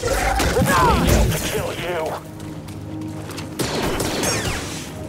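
Blaster bolts and combat impacts in Star Wars Jedi: Fallen Order, a burst of sharp zaps and crashes up front, a quieter lull, then another flurry, with game voices speaking over parts of it.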